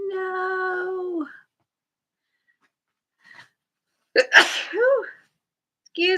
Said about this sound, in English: Uh-oh, I feel a sneeze coming.